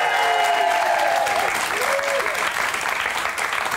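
A studio audience on Big Brother 2018 applauds and cheers loudly and continuously for an evicted housemate, with crowd noise filling the scene.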